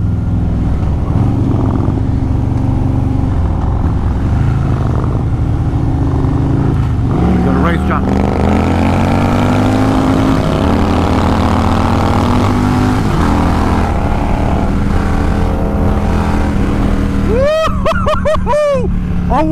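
A Harley Stage 4 performance bagger motorcycle accelerates through second and third gear in a race, its loud engine drone rising in pitch then dropping at each shift, with people talking over it.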